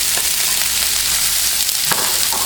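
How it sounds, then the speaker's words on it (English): Onion and peas dropped into hot oil in a pan for shrimp fried rice, a loud, steady, close sizzle filling the whole moment with a couple of faint stir clicks, no voices. "of my oil, and to that I'm going to add my onion, and my peas"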